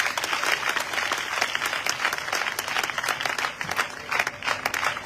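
A church congregation applauds loudly and continuously during a worship service, dense steady clapping filling the room with scattered cheers throughout.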